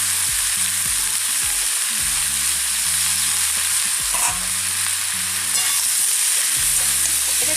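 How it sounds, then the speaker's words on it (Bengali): Bottle gourd greens, spinach, radish, potato and beans fry in hot oil, a constant loud sizzle with repeated stirring scrapes and clinks from a utensil against the pan. "এবার শাকগুলো আমি এই তেলেই ভেজে নেব।"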